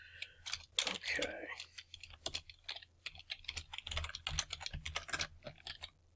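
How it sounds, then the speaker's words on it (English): Rapid, clacky keystrokes on a loud keyboard patter unevenly throughout, fairly close and crisp. "this is just a flat out really loud keyboard"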